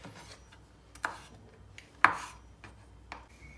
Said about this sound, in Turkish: Şimdi bunları hepsini ufak ufak kıyıyorum.